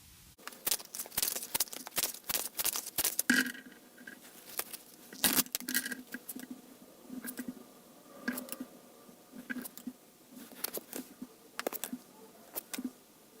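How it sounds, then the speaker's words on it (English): Tarot cards are shuffled and riffled in quick bursts of crisp, papery flicks and taps, close up, with short pauses between rounds. "So I'm going to shuffle some more cards and get further messages."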